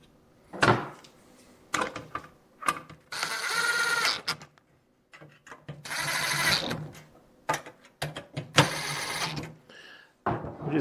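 Phillips screws are tightened on an EG4 indoor battery wall mount, heard as short bursts of ratcheting driver noise separated by quiet pauses, close and fairly clear.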